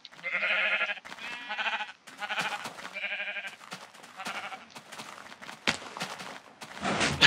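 Minecraft sheep bleating repeatedly, several wavering baa calls in quick succession at close range, with a few sharp clicks and thuds between them.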